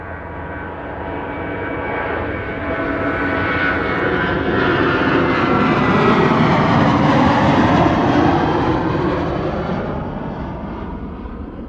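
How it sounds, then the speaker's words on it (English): A KLM wide-body jet takes off at Amsterdam Schiphol Airport with a broad, roaring engine noise that swells to a sustained peak and then begins to fade as it passes. No voices are heard. "we have a KLM wide body to Quito and a wide body to Portland that are soon going to take off from the runway over here"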